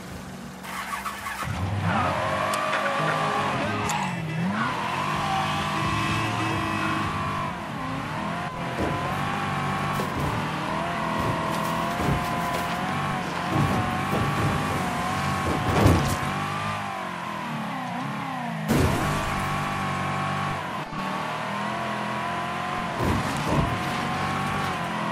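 A car driven in the Mafia III video game roars continuously for about twenty-five seconds, engine revving and shifting, with tires squealing and skidding at several points and occasional sharp impacts.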